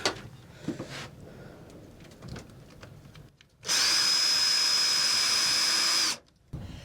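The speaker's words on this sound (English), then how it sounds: "just come and watch me drilling" A power drill whines loudly for a couple of seconds in one sustained burst, preceded by quieter handling clatter and followed by a brief restart.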